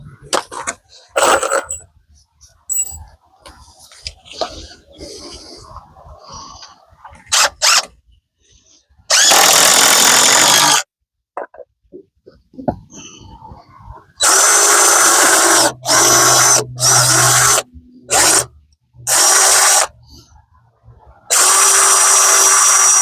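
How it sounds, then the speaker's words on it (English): Power drill boring screw holes in a wood board while framing a front wall for an 8x8 off-grid tiny house; several loud sustained drilling bursts of a few seconds each, separated by quieter handling clatter and pauses. "I'm drilling it out for my screws."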